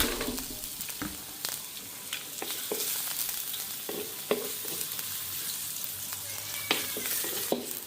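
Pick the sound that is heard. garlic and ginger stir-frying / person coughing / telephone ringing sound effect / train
garlic and ginger stir-frying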